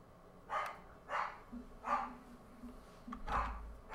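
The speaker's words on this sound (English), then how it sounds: "the dog starts barking now" A dog barks four times at a steady pace a short distance off, each bark fairly loud and clear over a low background hum.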